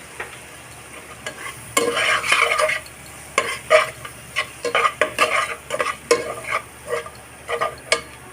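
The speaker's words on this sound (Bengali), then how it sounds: "দিয়ে দেব ধনিয়ার গুঁড়া দিয়ে ভালোভাবে মিশিয়ে নেব" Ground turmeric, chili, coriander and cumin are stirred into a pan for an egg dopiaza, with a soft sizzle beneath repeated close scraping and clinking of a spatula in a quick uneven rhythm.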